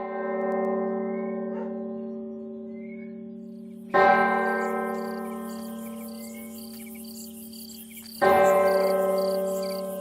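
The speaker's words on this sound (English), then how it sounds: "The bell is a little loud." A church bell in the game Martha is Dead strikes twice, several seconds apart. Each loud clang rings out and then decays slowly over a sustained hum, with a steady insect-like chirping in the background.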